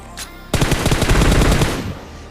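Rapid bursts of automatic gunfire in PUBG Mobile, loud and dense, following a brief quieter moment with no talking.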